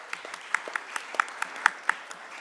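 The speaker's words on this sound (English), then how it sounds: "Come on, a round of applause for the speakers, please, loudly" An audience at a real estate conference panel gives a short round of scattered applause, with individual claps standing out from a light, steady patter.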